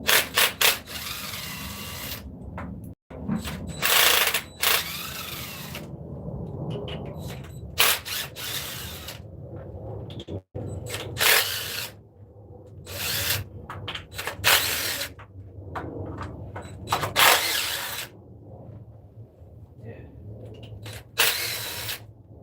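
A ratchet works loose the 10mm valve cover bolts on a 2018 Ford Explorer 3.7 engine, giving repeated close bursts of fast clicking separated by brief pauses and occasional metallic handling noises.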